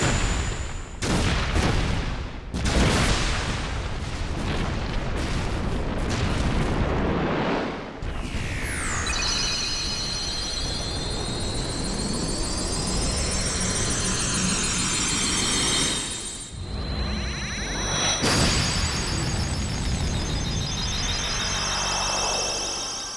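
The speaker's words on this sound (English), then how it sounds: "you actually can't see much there because of the explosion" An explosion in the video game Kingdom Hearts: loud booming bursts that open into a sustained roaring blast with rising whooshing sweeps and a sharp crash partway through.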